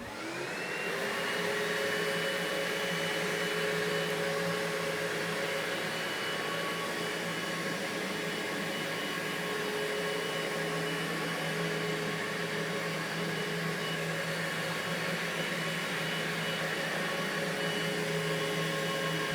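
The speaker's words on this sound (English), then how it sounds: "Turn your vacuum motor on and your brush and solution." Loud, steady whine of a Karma 360 floor scrubber's vacuum motor with a whirring brush, running continuously at an even pitch after a quick spin-up.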